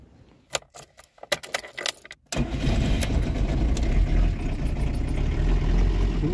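A camper van's engine started in freezing weather: keys jangle and rattle for a couple of seconds, then the motor cranks and catches into a steady, loud idle rumble that continues to the end.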